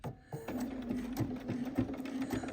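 A sewing machine stitches steadily right at the edge of fabric while making a scrunchie. Its close, fast mechanical whir and rhythmic needle clatter run continuously after a short quiet start.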